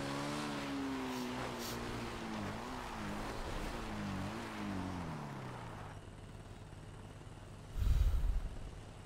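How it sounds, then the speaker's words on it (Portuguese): A motorcycle engine in a video game race revs up and down in repeated surges, steady and fairly loud, then drops away before a brief low thump near the end. "Escutei barulho de moto."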